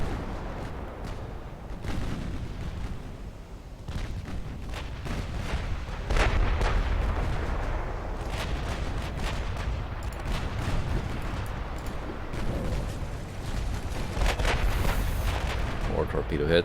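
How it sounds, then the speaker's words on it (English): Naval combat in Ultimate Admiral Dreadnoughts, a 1900-era British campaign, with torpedo hits landing on warships: repeated heavy booms and gunfire-like blasts over a continuous rumbling battle din, loud and dense throughout. "More torpedo hits."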